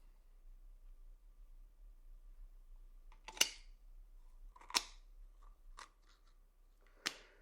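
Kitchen scissors snip through a turkey backbone in four crisp, crunchy cuts, spaced irregularly after a quiet start, close and fairly loud.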